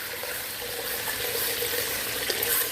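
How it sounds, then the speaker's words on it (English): Water runs steadily into a cooking pot being filled for sweet milk dumplings alongside steak, a continuous close splashing stream with no talk over it. "Now, I'm going to put enough water in here that we can drop dumplings."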